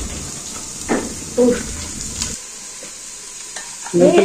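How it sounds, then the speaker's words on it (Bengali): Chopped onion and garlic fry in oil for bhuna khichuri while a spoon stirs them, giving a steady close sizzle broken by a few louder scraping stirs. "এটা একটু হালকা ভাজা হয়ে গেল, তারপরে দিব হলো আলু আর মরিচ"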